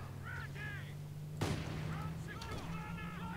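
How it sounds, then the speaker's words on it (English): A single heavy mortar blast bursts out mid-clip in the World War II strategy game Company of Heroes 2, a sharp boom over steady battlefield rumble, with voices heard before and after it. "Whoa, the mortars."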